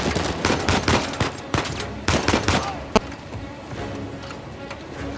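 Gunfire from the video game Uncharted 4 bursts in loud, rapid volleys during the first half, then a single sharp shot and quieter scattered shots follow.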